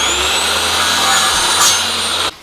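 A power tool, likely a router, trims the rough edge of a scrap plywood base plate. It gives a loud, steady, close whine for about two seconds, then cuts off abruptly.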